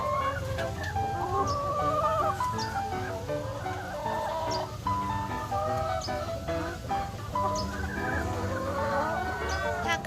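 Laying hens cluck and chatter continuously, several birds close by, with occasional higher calls over a low, steady background.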